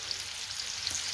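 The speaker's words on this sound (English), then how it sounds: "So those are going to be sautéed really well." Red onions sauté in a hot pan for a lamb curry, giving a steady close crackling sizzle with fine popping bursts and no voices over it.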